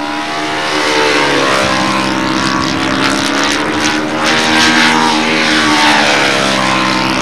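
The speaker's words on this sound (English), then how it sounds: "Prop noise. Wood props don't make the noise the carbon ones do." Model aircraft propeller noise, a loud sustained droning buzz with wavering pitch as the plane passes and circles, rising slightly toward the end.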